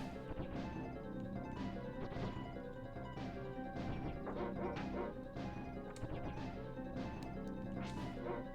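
Dog companion in the SNES game Secret of Evermore barking repeatedly among game music and combat hits, a steady run of yips and barks with crashing impacts mixed in.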